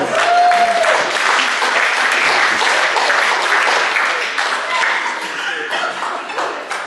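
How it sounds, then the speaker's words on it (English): Loud, dense applause from a banquet audience, a crowd clapping steadily and close, with a brief ringing tone near the start that eases off slightly toward the end. "Give them a round of applause."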